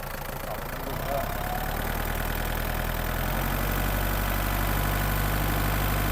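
The engine of a used Kubota tractor, an L3608DT or L4708DT, idles close by with a steady, loud diesel rumble that settles into an even drone after the first second.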